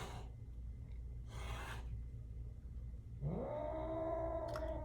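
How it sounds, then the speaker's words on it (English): Two house cats fight, giving bursts of harsh hissing and scuffling, then a drawn-out rising yowl close by, with no talk. "my cats are so evil."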